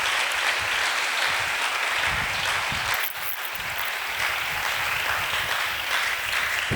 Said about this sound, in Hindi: आइए खुदा के पाक रूह के लिए जोरदार तालियां